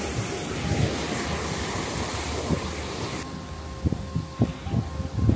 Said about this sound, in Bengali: এই পাশ থেকে পানি ছাড়া হয়েছে, আর ওইদিকে হচ্ছে লক করে দেওয়া হয়েছে, অর্থাৎ পানির উচ্চতা বৃদ্ধি পাচ্ছে